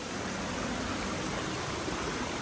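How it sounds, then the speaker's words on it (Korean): Steady broadband rush of water flowing at a mountain spring in the Gwanaksan Sillim valley, continuous and fairly close, with no voices. "네, 약수터입니다."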